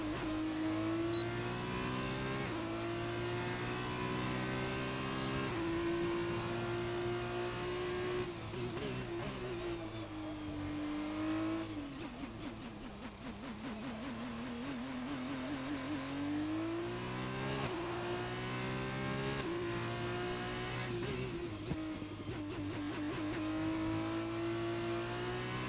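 An F2 race car in a racing video game screams through a lap, its high engine note climbing and dropping steadily through gear changes and corners, loud and continuous with no voices.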